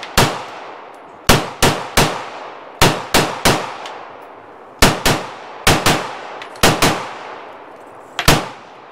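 Sharp gunshots from a Walther PDP striker-fired pistol ring out at a shooting range: about fifteen loud, close reports fired in quick pairs and bursts, with short pauses between groups and each crack decaying into a brief echo.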